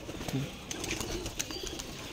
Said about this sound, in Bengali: লাল চোখের কবুতর,